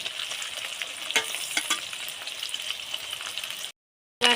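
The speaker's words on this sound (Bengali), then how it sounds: "রসুনটা তেলের মধ্যে ভালো করে লাল লাল করে ভেজে নেব" Garlic, ginger and cumin paste fry in oil with a continuous crackling sizzle and a few clicks of stirring, then a sudden short silence before the frying resumes.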